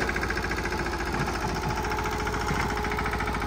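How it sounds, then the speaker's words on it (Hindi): A single-cylinder mini tractor engine drives a rotavator in a field, a steady loud chugging drone with rapid rhythmic knocking pulses throughout, close by and without talk. "रोटावेटर के साथ एक सिलेंडर ट्रैक्टर रोटर देखो कैसे चला सकता है"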